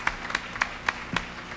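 Studio audience on a TV country music show applauding a duo, five distinct, evenly spaced claps, fairly close and moderately loud, with nothing else around them.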